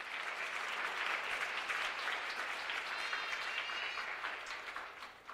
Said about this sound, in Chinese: 我们再一次给他们热烈掌声